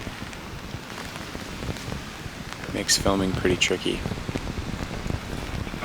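Steady rain pours down outdoors while wood storks are being filmed, a dense constant patter close by, with someone talking over it partway through.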